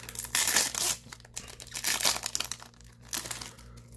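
A Pokémon Shiny Treasures EX card pack torn and crinkled open by hand: close, loud foil crackling in several rustling bursts with short pauses between.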